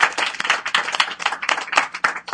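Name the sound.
audience applause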